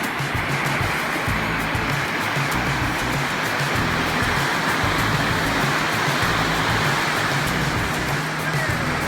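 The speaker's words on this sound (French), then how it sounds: "C'est vraiment agréable de marcher avec le bruit des vagues à côté." Steady rushing surf fills the air, a continuous broad roar of waves washing in without pause on the beach at La Baule.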